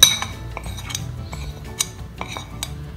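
A spoon clinks and scrapes against a bowl while spice marinade for chicken is mixed, giving a few sharp metallic taps over soft stirring, close and fairly quiet.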